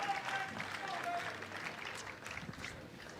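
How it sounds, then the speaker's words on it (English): Crowd at a pickleball championship, the Franklin US Open, cheering and clapping in a steady broadband wash of applause with some voices mixed in, moderately loud throughout. "The crowd gave him a big cheer."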